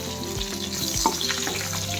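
Mustard seeds and curry leaves frying in hot oil, a steady close sizzle with small pops and crackles and a brief stirring scrape.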